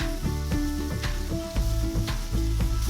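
Chicken sizzles steadily in a hot pan while being stir-fried for Thai basil chicken, with rhythmic scraping and tossing sounds from stirring punctuating the crackle.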